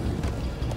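Horses galloping in the Minecraft Story Mode video game: rapid, rhythmic hoofbeats clattering close and loud across the whole short burst, with no speech.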